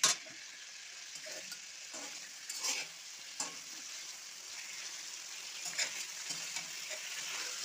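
Pointed gourd (potol) frying in oil in a pan, a steady bright hiss of sizzling with occasional stirring scrapes and crackles, close and fairly quiet, no talk.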